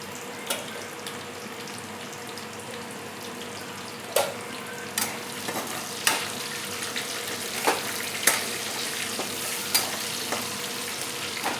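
Cumin and chopped onion fry in plenty of oil, a steady hiss with occasional sharp spatters and stirring clinks spread through the stretch.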